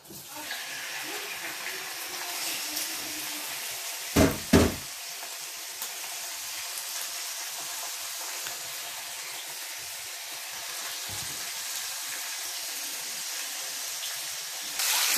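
Meat sizzles in hot oil in a frying pan, a steady broad crackling hiss that runs throughout at moderate level, broken by a couple of sharp clunks near the start and another knock later.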